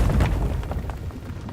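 A bomb goes off in the fantasy video game Avowed, a deep booming blast at the start that rumbles and fades out over the next second with no talk over it.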